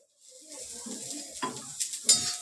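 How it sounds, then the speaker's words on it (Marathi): Ginger, garlic, green chilli and curry leaves hit hot oil in a pan for an egg curry, giving a soft close sizzle with a few stirring scrapes and clinks, with no talk. "इथे मी पहिलं हे टाकते आलं लसूण आणि मिरची आणि कडी पत्ता भाजून घेते आणि थोडंसं तेल घालणार आहे"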